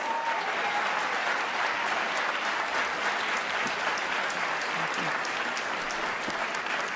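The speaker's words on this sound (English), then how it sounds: "Let's give another round of applause to our 2 U.S. senators" A large crowd at a congressional State of the District event applauds the two U.S. senators, a loud, unbroken roar of clapping that holds steady for the full seven seconds, with a faint whistle at the start.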